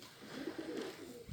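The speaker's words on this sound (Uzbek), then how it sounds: "Qushlar mana hammasi tulakda dam olib. Ko'p qushlar bor." Takla pigeons resting in Samarkand give a soft, low coo, brief and faint against a quiet background.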